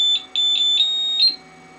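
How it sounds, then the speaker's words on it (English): A Flashforge Finder 3D printer emits a series of sharp, high electronic beeps, about five quick tones in a row and then a slightly longer final beep, close and loud over a faint steady hum. "It's not super intuitive how to turn that beeping off."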